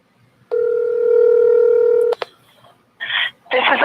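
A phone call placed from a contact list on a new mobile phone: a loud, steady dial tone for about a second and a half, then a short beep and two bursts of dialing tones, with no talking.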